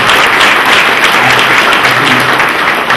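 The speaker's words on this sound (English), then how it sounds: "Chief, give him a round of applause." Loud, dense applause fills a high school auditorium during a town hall meeting, an audience clapping continuously for a local police chief with no voices on top.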